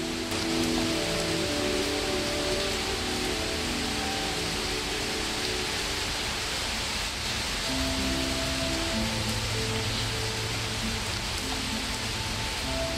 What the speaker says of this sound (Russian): Вначале был дождь, обычный сильный дождь